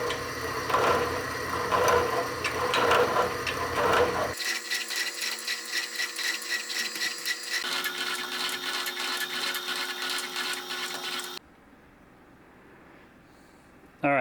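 A horizontal mill converted to vertical, cutting metal at 62 RPM, gives a rhythmic mechanical chatter and grinding whir that shifts character twice before dropping to a faint background, with brief speech at the end.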